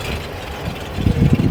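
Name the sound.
idling 12-cylinder engine of a 1937 Rolls Royce car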